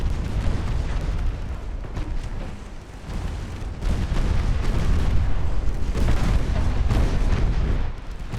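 Heavy explosion from a torpedo striking a ship in the naval warfare game Ultimate Admiral Dreadnoughts, a loud, dense rumbling blast that rolls on continuously for several seconds with no voices over it.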